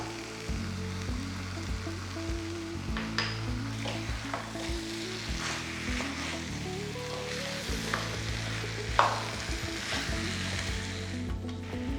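Chicken and masala for chicken mappas fry on high flame, a steady close sizzle with occasional stirring scrapes, under a low humming background and no talk.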